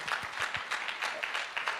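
Applause for Anukul sir at a business team event, a soft, somewhat distant patter of clapping hands that holds evenly for under two seconds without speech.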